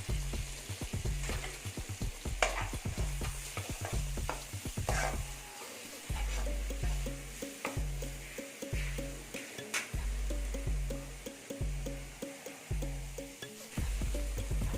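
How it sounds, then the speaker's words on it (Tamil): Long-sliced onions sautéing with salt in hot oil for a green pepper fish fry, a soft sizzle under regular spatula strokes against the pan, with a low rhythmic hum running throughout. "எண்ணெய் சூடாயிருச்சு இதில் ரெண்டு பெரிய வெங்காயம் நீள நிலமாக கட் பண்ணி வச்சுருக்கேன் அதை போட்டுருவோம்"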